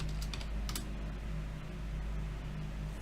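Rapid computer keyboard typing, close and fairly steady, clicking over a low constant hum from nearby equipment.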